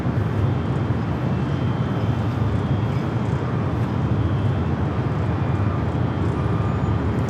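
A jet airliner, flight 229 in from Shenzhen, roars steadily at LAX, a dense broadband rumble that holds constant and loud throughout with no talk.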